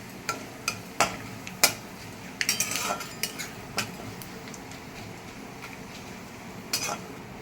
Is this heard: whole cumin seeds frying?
yes